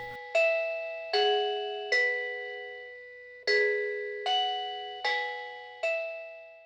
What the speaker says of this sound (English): you also have an option for the hub to trigger a siren or a chime when it detects smart events